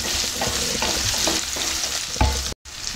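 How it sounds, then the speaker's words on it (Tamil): Indian gooseberries (amla) sautéing in oil on a medium flame for a pickle, with a continuous close sizzle broken by repeated stirring scrapes and knocks, and a brief cut near the end. "நெல்லிக்காவை ஒரு 2 நிமிஷம் வதக்கி விட்டா போதும் மீடியம் ஃப்ளேம்ல"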